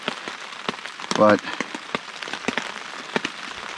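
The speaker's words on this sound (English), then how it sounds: "The rain is nice" Rain patters on campsite tarps overnight, a steady fine drumming with scattered louder drops, while a person talks briefly over it.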